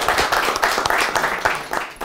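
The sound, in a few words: audience applause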